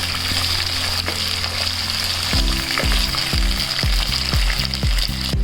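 Raw green mango pieces frying in a pan: a loud, close, continuous sizzle, joined after two seconds by a regular run of thumping stirs against the pan.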